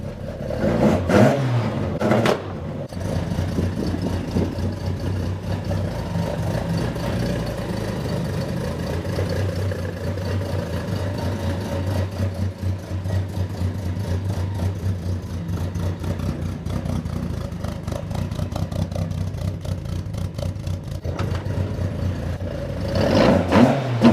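A car engine idles steadily to warm up, a continuous close low rumble with slight fluctuations in pitch, framed by a few clunks and knocks at the start and end, with no talking.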